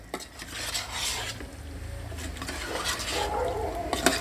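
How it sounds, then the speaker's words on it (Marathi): A utensil scrapes and stirs chicken curry ingredients through oil in a pan while it sizzles softly, with occasional metallic clinks against the pan. "हे पूर्ण तेलामध्ये मिक्स करून घ्यायचं आणि थोडंसं शिजवून घ्यायचं"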